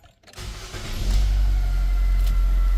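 A Nissan Versa engine cranks and catches after a brief quiet start, then settles into a loud, steady idle close by, with no talking.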